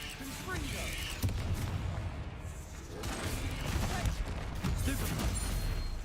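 Fire-spell explosions from a Harry Potter video game, a dense run of crackling bursts, booms and clattering impacts over continuous battle noise, with a voice calling out spells throughout.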